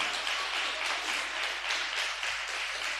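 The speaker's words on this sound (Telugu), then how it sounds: "గట్టిగా చప్పట్లు కొట్టండి" A church congregation applauds steadily with loud, dense, continuous clapping that fills the room without pause.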